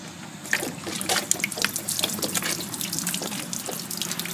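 Water draining from the aluminum tank of an Atwood water heater in a Jayco camper trailer, a steady close splashing and trickling stream with scattered drips and spatters throughout.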